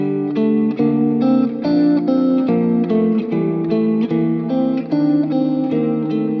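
An electric guitar plays a melody over a moving bass line, continuous and moderately loud with a slightly effected tone.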